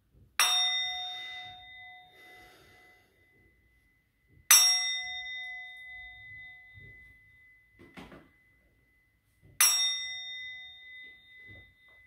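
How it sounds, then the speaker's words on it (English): A bell is struck three times at even intervals of about five seconds, each strike a bright, clear ring that decays slowly in a quiet room, with a faint soft knock between strikes. "I'm going to ring the bell."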